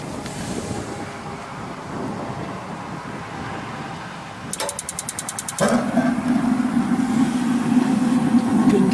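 Suburban SW6DE RV water heater on gas: a rapid train of igniter clicks for about a second, then the burner lights with a sudden, steady close roar over background wind noise.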